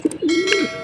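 Racing pigeons at a loft give one short, close cooing call, a low rolling coo that swells and fades within a second.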